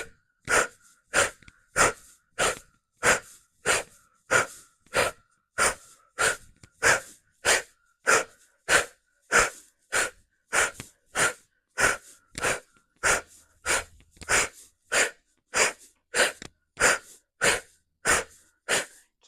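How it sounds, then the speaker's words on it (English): Forceful cannonball breaths pushed out through the mouth in a steady, rapid rhythm, about thirty sharp exhales one after another, close and loud with no talking. "exhale with our mouth this cannonball breath"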